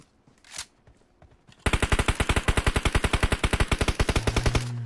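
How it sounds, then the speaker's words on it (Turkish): Rapid automatic bursts from an Uzi submachine gun in PUBG Mobile, a loud, evenly spaced stream of about thirty close shots that begins abruptly after a quiet lead-in and runs to the end. "Uzi sıktı herif."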